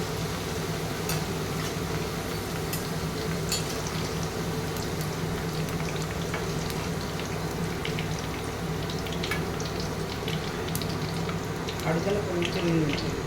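Ivy gourd pakoda sizzles steadily in hot oil, a dense, even frying hiss with scattered small pops, close and continuous throughout.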